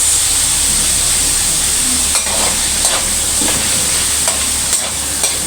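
Meat sizzling loudly in a pan while frying for pancit, a constant bright hiss with occasional soft stirring knocks, close and without talk.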